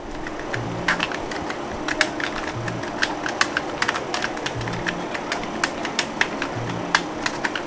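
Brisk typing on a Razer Huntsman Mini, a 60% gaming keyboard with linear optical switches: close, steady, irregular keystrokes with soft clacks and no voices.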